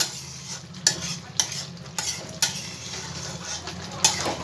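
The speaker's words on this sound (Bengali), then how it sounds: "ভালো করে এগুলো সব একসাথে মিশিয়ে নেব।" Kasuri methi is stirred into soybean curry in a pan, with a continuous scrape and sizzle broken by several distinct clinks of the spoon against the pan.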